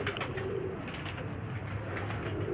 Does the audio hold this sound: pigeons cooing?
yes